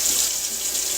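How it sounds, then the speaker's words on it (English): Kitchen faucet runs steadily during a post-installation test, a close, even hiss of flowing water with no talk. "With all the lines in place, it's time to test your faucet."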